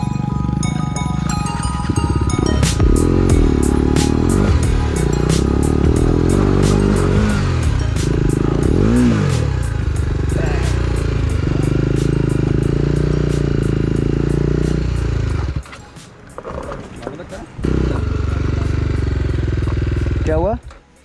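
A motorcycle labours up a steep gravel road, its engine droning and revving loudly with clattering over loose stones, briefly dropping away before returning, while people talk and shout over it.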